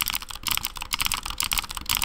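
Rapid, dense typing on a Magic Force mechanical keyboard, loud and close, with crisp clacking keystrokes arriving in a steady flurry and no speech.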